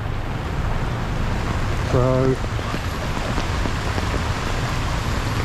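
Steady rain pours onto a flooded street in Pattaya, a constant dense wash of water at an even level, with a brief voice and a short tonal sound near the two-second mark.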